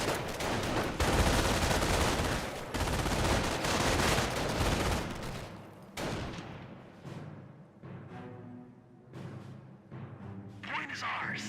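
Dense gunfire from a German MG42 machine gun in the WWII strategy game Company of Heroes, loud rattling bursts over the first five seconds, then sparser, fainter shots and distant booms trailing off.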